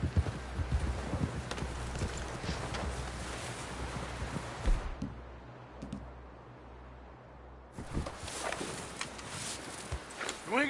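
In the Red Dead Redemption video game, horse hooves clip-clop in a steady walking rhythm, moderately close, with a brief lull midway before resuming.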